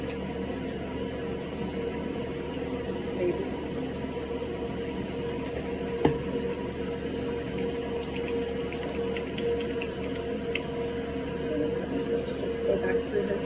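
Steady water runs from a salon sink tap during a second shampoo of a client's hair, a low continuous rush with a faint knock midway and no talking.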